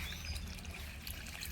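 Water pours and trickles briefly as hands are rinsed, a soft, faint splashing stream heard alone.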